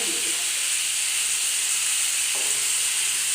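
Onion and spice paste sizzling in hot oil for a fish curry with eggplant, ridge gourd and potato, a dense, steady, close frying hiss throughout with a faint scrape of stirring.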